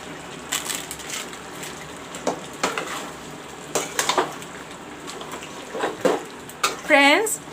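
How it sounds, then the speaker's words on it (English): Mutton browning in a pot with turmeric, chili and Kashmiri mirch masala: a steady background sizzle with periodic clanks and scrapes of a stirring spoon against the pot, and a voice speaking over it. "now I will let this mutton and the masalas fry together"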